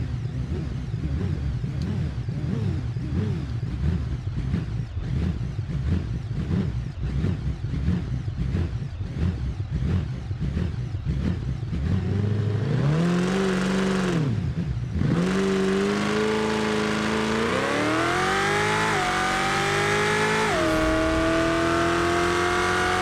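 A car launches at full throttle in the driving game BeamNG, its engine first bogging in a pulsing, stuttering drone, then revving hard and climbing through the gears with a rising whine, loud and steady with no talk.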